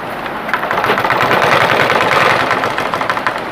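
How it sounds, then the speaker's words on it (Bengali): Household sewing machine stitching fabric after a skipped-stitch fault, a fast, even mechanical whirring chatter up close, swelling in the middle and continuing unbroken, no speech. "তো আমি এবার এই দিক থেকে সেলাই করি।"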